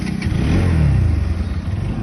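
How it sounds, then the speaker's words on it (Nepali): A Bajaj Pulsar NS200 motorcycle engine revving hard close by, a throaty mid-pitched roar that swells and falls in a rough pulsing rhythm. "यसरी त इन्जिन जान्छ राजा।"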